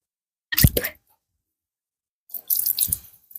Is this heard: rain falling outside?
no